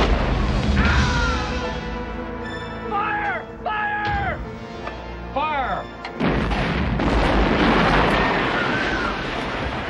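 An incoming artillery shell lands in a 1988 comedy film, with whistling shell tones sliding down before a loud crash and a heavy, sustained roar of explosion debris that continues to the end.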